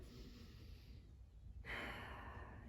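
A deep breath during a kids' yoga class in child's pose, a soft airy exhale followed by a brighter inhale, faint and close with no talk.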